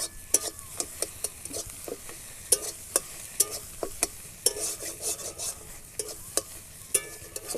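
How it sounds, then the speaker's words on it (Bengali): Eggs are scrambled and fried in oil in a wok, giving a steady sizzle broken by frequent rhythmic scraping and clacks of a spatula against the pan, close and continuous. "ডিমটাকে আমি ঝুড়ো করে ভেজে নেব।"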